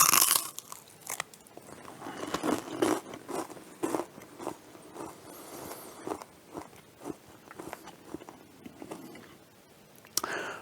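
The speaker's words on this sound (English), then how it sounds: "You might have heard how crunchy the cornflakes were on top of the crunch of the cookies" Crisp, crunchy bites and chewing of cornflake-topped cookies up close, repeated irregularly over several seconds with brief pauses between bites.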